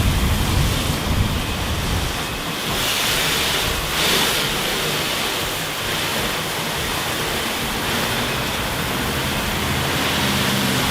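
Steady rush of water spraying over a ceramic-coated car during a top-to-bottom rinse, continuous and fairly loud with slight surges, no voices.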